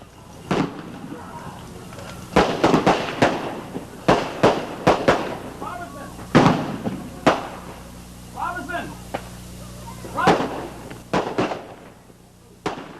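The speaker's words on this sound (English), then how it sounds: "began firing pistols and rifles at the fleeing demonstrators" Pistol and rifle gunfire from archival news footage of a Klan attack on fleeing demonstrators at a Greensboro rally: a dozen or so sharp, loud shots in an irregular scatter, with voices shouting faintly in between.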